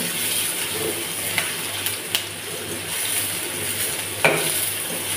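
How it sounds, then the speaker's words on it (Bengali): Onions fry in very hot oil while fish is being cooked, giving a steady, close sizzle and crackle. A few sharp pops and stirring scrapes cut through it, with no talking. "এবার পেঁয়াজটা আমি ভালোভাবে ভেজে নেব"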